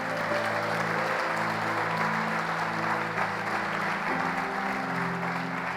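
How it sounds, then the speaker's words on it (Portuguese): A church congregation at an Easter service applauds with steady, even clapping that sits over sustained background music and continues without a break. "Você pode aplaudir o Senhor?"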